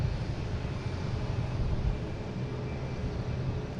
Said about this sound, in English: Next taking off is American heading to Charlotte,